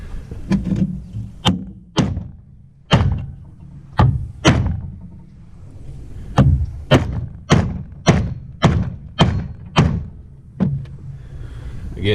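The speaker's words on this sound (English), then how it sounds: "you always want to drive a bearing out only on the outer race" A bearing hammered out by its outer race during side-by-side (UTV) repairs on a trailer: about twenty sharp, loud metal blows, spaced out at first and then quicker and more regular, each ringing briefly.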